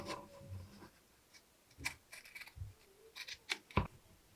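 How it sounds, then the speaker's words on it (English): Quiet, close scissor snips and rustling as fabric is trimmed, a series of short irregular cuts with brief pauses between. "take your scissors and cut around, leaving only 1/8 of an inch"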